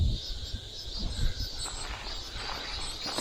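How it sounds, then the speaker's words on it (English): A steady high-pitched drone of cicadas hums continuously in the background in late spring, with soft rustling and footsteps closer by. "Everybody's talking about the cicadas this year."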